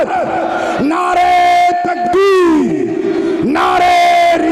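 A large crowd at an Islamic religious gathering shouts slogans in unison, loud call-and-response bursts of many voices repeating in strong rhythmic waves.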